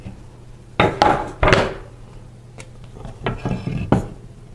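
Assembling a Flex 8-shaft floor loom brings a series of sharp hammer taps on wood and plastic parts. Two louder knocks come close together early, then a run of lighter irregular taps, all close up.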